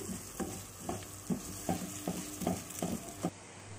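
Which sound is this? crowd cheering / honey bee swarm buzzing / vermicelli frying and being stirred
vermicelli frying and being stirred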